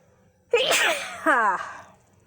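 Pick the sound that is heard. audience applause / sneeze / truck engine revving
sneeze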